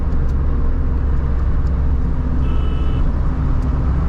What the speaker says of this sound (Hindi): रोड है और इंजन नॉइज़ है